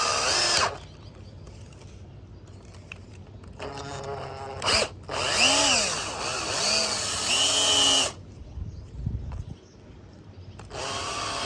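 A step drill bit whirs and grinds through material in loud bursts while installing a front camera on a 2023 Jeep Rubicon, its whine rising and falling, with pauses between passes.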